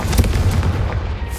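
The Confringo explosive spell in the game Hogwarts Legacy bursts as a loud, close, rumbling blast with a broad roar that stays steady for over a second before easing off.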